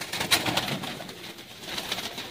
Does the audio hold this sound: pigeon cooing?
yes